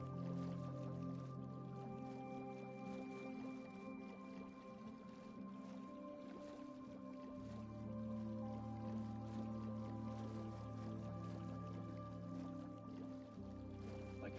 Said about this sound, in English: Like how that water just gets a little lighter right there.